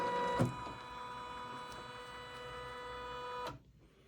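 An embroidery machine stitches a zipper pouch in the hoop, giving a steady mechanical whir with tonal hum and faint ticking, a sharper knock near the start and another just before the motor stops.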